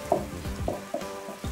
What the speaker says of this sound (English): After 3 minutes, you can now stir it vigorously.